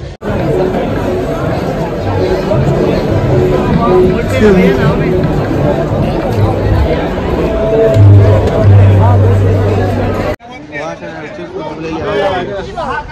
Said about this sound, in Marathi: लय गर्दी आहे, भयानक गर्दी आहे, भयानक गर्दी